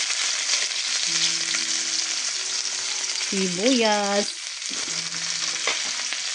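Onion sizzling and frying in a hot pan while cooking ampalaya with native egg, a loud continuous crackle broken by a brief tonal whine and stirring scrapes.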